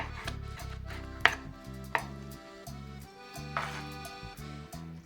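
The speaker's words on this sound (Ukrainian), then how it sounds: "Зараз я наріжу дрібненькими шматочками." Mushrooms are chopped into small pieces on a board, a close, steady run of knife knocks with a few sharper, louder strikes and short pauses between bursts.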